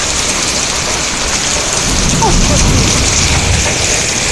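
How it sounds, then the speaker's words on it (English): Heavy rain falls steadily with a low roll of thunder rising partway through, loud and close, while a voice speaks briefly. "The rain."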